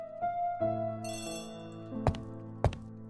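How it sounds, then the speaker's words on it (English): A telephone rings indoors, a bright bell tone sounding briefly over soft background music, followed by a couple of sharp knocks or clicks. "Phone is ringing."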